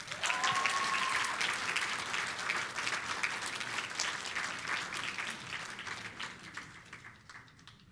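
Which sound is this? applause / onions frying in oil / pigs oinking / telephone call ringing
applause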